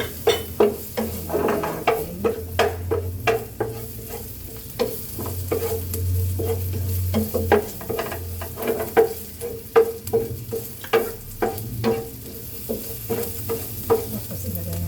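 Onion and garlic sautéing in a pan, a steady sizzle broken by repeated scraping strokes of a spatula stirring at an uneven rhythm, close and fairly loud, with no talking.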